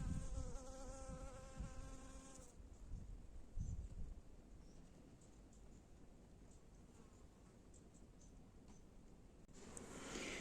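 Honey bees buzz steadily at close range, one louder droning hum at the start and again near the end over a quieter background hum.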